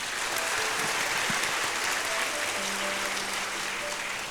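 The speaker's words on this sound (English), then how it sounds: "So a final round of applause for our students." A hall full of people at a school annual programme claps continuously for students, a thick, even roar of applause with faint voices mixed in.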